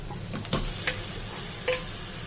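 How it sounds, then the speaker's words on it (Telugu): Mutton fries over high flame with chili powder and coriander powder in oil. A low continuous sizzle is broken by a few sharp utensil taps and scrapes against the pan. "హై ఫ్లేమ్ పైన మంచిగా వేయించుకుంటే మటన్ బాగా కుక్ అవుతుంది అన్నమాట."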